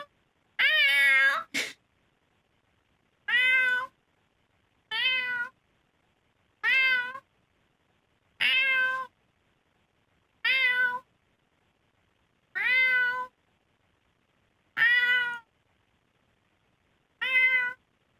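A cat meows repeatedly, about nine distinct clear meows spaced a couple of seconds apart with quiet gaps between, fairly close and alone.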